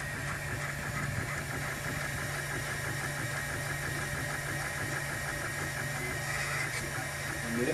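A 3D printer runs while printing a circular shape, giving a steady mechanical whir and buzz with faint tonal singing from its motors, continuous and fairly quiet throughout.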